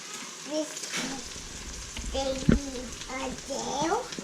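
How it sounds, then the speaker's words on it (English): Sausage frying in a pan in a home kitchen, giving a steady soft sizzle and crackle throughout while people talk over it. "So I've got my sausage cooking."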